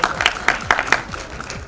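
Short round of audience clapping at a public event welcoming actress Shilpa, loose and uneven individual claps close to the microphone with faint murmurs underneath.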